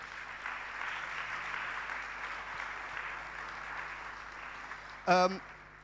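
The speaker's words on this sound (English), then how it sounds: "give her a round of applause" Audience applause at a sustainability conference session, a steady broad wash of clapping that fills the room throughout, ending with a brief louder burst near the end.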